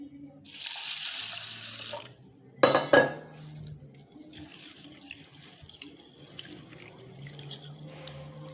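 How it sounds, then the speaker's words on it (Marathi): Tap water runs loudly into a pot as lentils are washed in a kitchen, followed by a clattering splash and softer swishing and dripping as the grains are rinsed by hand. "हे धुवून घ्यायचे आपल्याला एक दोन तीन वेळा स्वच्छ धुवून घेऊया"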